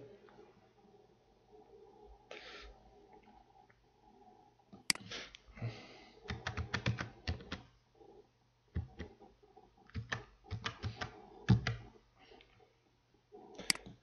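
Someone types a password on a computer keyboard: quiet, close key clicks in a few rapid clusters separated by pauses.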